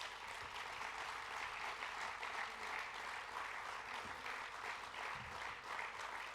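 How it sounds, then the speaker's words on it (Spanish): Audience applause at an outdoor political rally, a steady, dense patter of many hands clapping for over six seconds, fairly faint and distant. "Y antes decía que no os pedía un aplauso, ahora sí os lo pido"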